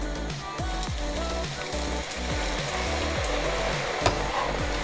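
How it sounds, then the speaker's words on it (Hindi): Potato pieces coated in cornflour frying in hot oil for a honey chilli potato dish, a steady close crackling sizzle with repeated bubbling pops throughout. "सो अब मैं इसको तेल के अंदर डाल देता हूँ।"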